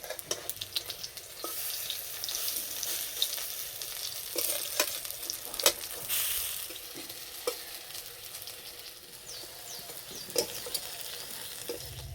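Bengali pui leaf pakoras (fritters) sizzling in mustard oil in a kadai after being flipped, a steady crackling fry with occasional clinks and scrapes of a utensil throughout.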